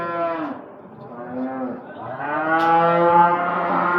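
Cattle at the Barda livestock market in Azerbaijan, with several long, loud, close moos following one another, the later ones rising and overlapping, and faint market noise behind them.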